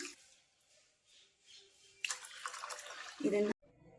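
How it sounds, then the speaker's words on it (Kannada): Water is poured from a vessel onto two cups of moong dal to soak it, a soft close splash and trickle that stops abruptly, after quiet speech. "ಇದು ನೆನೆಯೋಷ್ಟು ನೀರನ್ನು ಹಾಕ್ಕೊಳ್ತಾ ಇದ್ದೀನಿ"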